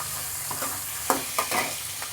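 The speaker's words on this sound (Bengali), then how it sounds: "মাছের তেল দিয়ে যখন রান্না হচ্ছে তখন রান্নাটাও অসাধারণ হবে" Mixed vegetables sizzle in fish oil in a pan while being stirred, a soft steady frying hiss with a few scraping stirs, close and fairly quiet, no talk.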